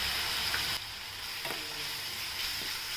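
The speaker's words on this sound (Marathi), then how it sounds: "त्यात लाल मिरची पावडर, गरम मसाला आणि हळद हे टाकून घेऊया. मीठ टाकूया आणि छान परतून घेऊया." Spices such as red chilli powder, garam masala, turmeric and salt sautéed in a pan for a yellow lentil gravy, a soft steady sizzle with a few light scraping stirs, faint and close, without talk.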